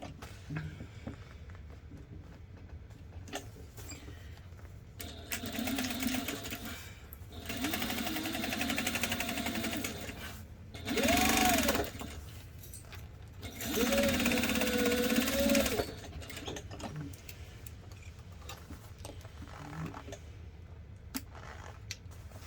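A sewing machine stitches long basting lines on fabric for a bag, running in several separate bursts of steady mechanical whirring with pauses between, close and fairly loud, with no talking.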